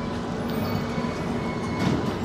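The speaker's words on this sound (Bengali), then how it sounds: "তো কিষানগঞ্জ স্টেশন থেকে এখন আমাদের গাড়ি ছেড়ে দিল।" A train pulls out of Kishanganj station on the Prayagraj to Siliguri run, heard from inside the carriage as a steady, faint, low rumble with no speech.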